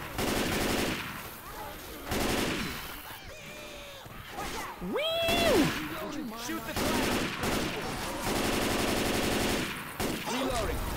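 Gunfire in the zombie shooter Left 4 Dead 2, fired at a charging Charger infected, with bursts of shots under loud excited talking and shouting from players.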